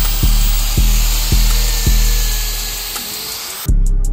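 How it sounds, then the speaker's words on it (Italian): An Aerox EP3 scooter footrest is scraped clean during a restoration, with loud, regular scraping strokes roughly every half second over a constant high, thin whine, then a sharp cut to quieter sound near the end. "stiamo andando a grattare la pedalina"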